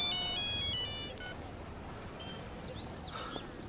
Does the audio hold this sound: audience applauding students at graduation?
no